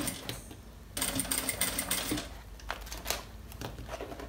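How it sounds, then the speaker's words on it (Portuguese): Sewing machine stitching the bottom seam of a striped beach bag, a close, steady mechanical whir with rapid needle ticking that starts up after a brief pause and runs continuously, no voices. "Faço um retrocesso no início e vou passando a costura aqui na beirada."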